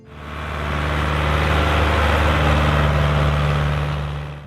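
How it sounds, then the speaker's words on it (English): A Ford 5000 tractor's diesel engine idling, a steady low rumble with a constant hum that holds evenly for several seconds, close and loud with no voices. "the Ford 5000 idling by the windrow at dusk, the steady diesel note"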